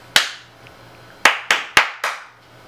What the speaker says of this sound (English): You have to clap a bunch of times, and so you clap